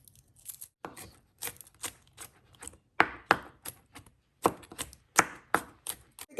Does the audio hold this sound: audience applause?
no